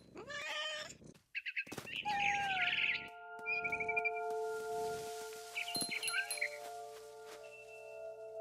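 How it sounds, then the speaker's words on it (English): Barn swallow chirps mixed with cat meows in the video game What Remains of Edith Finch, over a sustained tonal ambient drone. "Then I heard chirping outside my window. It was a barn swallow going back to her nest."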